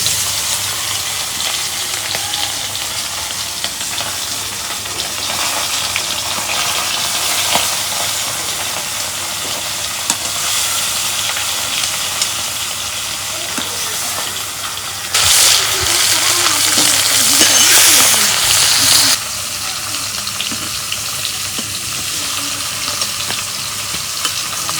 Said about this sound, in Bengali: এখন ভাইজা নেব মাছগুলা, ভাইজা নেব। তেল গরম হচ্ছে